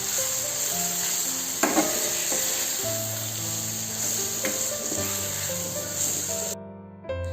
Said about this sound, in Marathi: मसाले छान परतून घेतलेले आहेत.